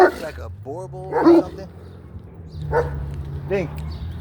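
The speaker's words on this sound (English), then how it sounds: "This is a full-blooded Belgian Malinois." A full-blooded Belgian Malinois outdoors on a walk gives several short barks and yips, spaced across a few seconds at close range, with people talking around it.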